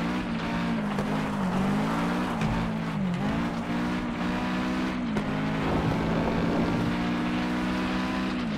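A racing game car engine drones steadily and loudly up close, its pitch rising and dipping with gear changes, while another vehicle, a big truck, closes in during a street race.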